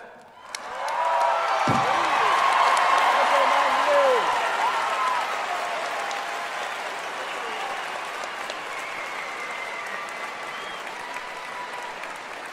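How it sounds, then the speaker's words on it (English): A large graduation crowd at a high school ceremony erupts into loud, sustained cheering and applause with whoops and shouts, staying dense for the whole stretch before easing slightly toward the end. "So for one last time, I get a cheer for you all. Go Mavs!"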